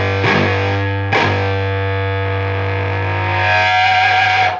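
Electric guitar through a Rat distortion pedal with gain turned up, two sharp chord strikes that ring out into a long, loud sustained distorted tone.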